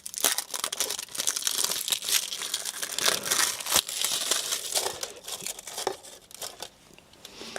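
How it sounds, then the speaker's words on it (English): Plastic packaging crinkles and tears continuously as a Tesla-shaped OBD charger case is unwrapped fresh out of the box, close and fairly loud, with sharp crackling bursts and no talk. "the actual case itself, I'm just going to unwrap it quickly."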